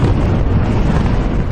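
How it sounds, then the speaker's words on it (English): A deafening explosion at an aluminium factory after floodwater from a burst riverbank reaches it, heard as a loud, sustained, broadband roar that fills the whole moment without letup and with no voices. "A deafening explosion at this aluminium factory after a nearby river burst its banks."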